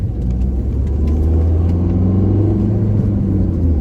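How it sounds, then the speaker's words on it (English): A Ford Fiesta engine rumbles steadily up close, with a faint high turbocharger whir riding over the low drone throughout. "Oh my God, it makes a turbo noise."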